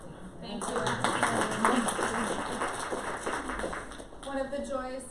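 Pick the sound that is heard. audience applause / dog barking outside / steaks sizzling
audience applause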